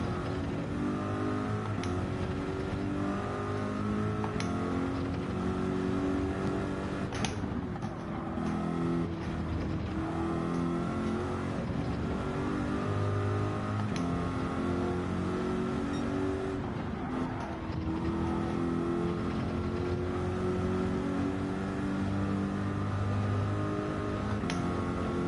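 A Corvette race car engine roars steadily at high revs in a racing video game during a long endurance race, holding a loud continuous drone with brief gear-shift dips and occasional passing cars.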